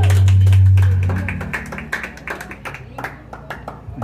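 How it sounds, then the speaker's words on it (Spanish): Clapping from a small gathering in honour of a woman's birthday, a brief burst of hand claps that quickly thins into scattered taps while voices talk and music plays underneath. "Aplauso a la señora Mafalda, por favor."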